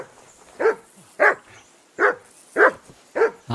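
In the medieval video game Kingdom Come Deliverance 2, a dog barks five times in a steady, evenly spaced series, each bark clear and fairly close with quiet between them.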